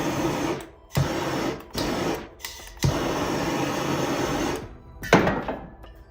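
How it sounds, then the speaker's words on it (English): Heat-shrink tubing being shrunk over wires during a pickup throttle body installation, heard as a steady whirring blower hiss that cuts out and restarts several times, with a few clicks between runs. "So first things first, heat shrink these two."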